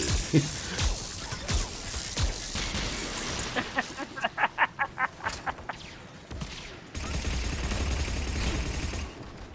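Gunfire in Mass Effect 3 multiplayer, with scattered shots and then a rapid burst of about eight evenly spaced rounds, moderately loud, followed by a denser stretch of noisy action.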